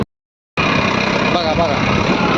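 A Massey 7250 DI tractor runs a field demo on hard, stony, cloddy ground, its engine droning loud and steady after a brief silent gap.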